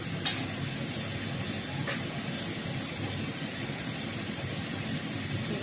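Cumin, ginger and garlic paste frying in hot oil in a pan, a steady close hiss with a brief clink near the start and no talking.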